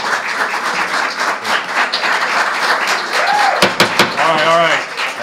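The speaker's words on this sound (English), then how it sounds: "Please do not applause public comments." Meeting audience applauding after a public comment, a dense burst of clapping from many people filling the room, with a couple of sharp knocks and a voice breaking in near the end.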